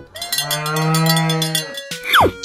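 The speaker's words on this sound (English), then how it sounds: "Cow." A cartoon cow gives one long, loud, sustained moo up close, and a short falling whistle-like effect follows it.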